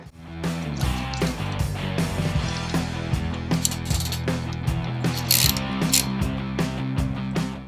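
A ratchet snugs up bolts on a set of 43mm Öhlins motorcycle forks during a Sportster build, giving close, crisp repeated clicking strokes in quick runs that continue throughout, with no talk.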